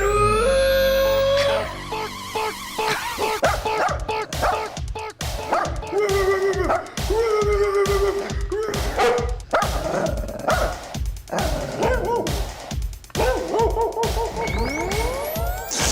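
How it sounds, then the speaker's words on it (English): Several excited dogs bark, yip and whine in a loud, near, continuous burst, with rapid overlapping barks and rising whimpers throughout. "the dogs are, they're getting excited"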